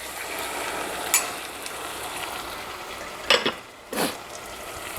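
Chicken liver sears in a pan as a soft continuous hiss, with a few brief louder spits and stirring bursts near the end.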